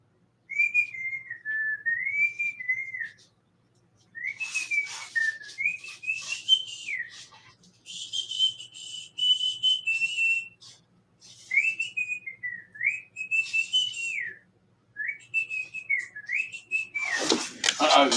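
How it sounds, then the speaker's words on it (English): A man whistles a wandering tune in several close, clear phrases separated by short pauses, ending with a burst of other noise. "you know if I'm whistling, it's getting scary"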